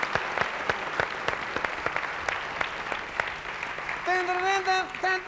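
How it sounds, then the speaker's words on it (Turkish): A studio audience applauds on a television talk show, a dense steady clapping that runs throughout, with music rising underneath toward the end. "bir alkışla uğurluyoruz"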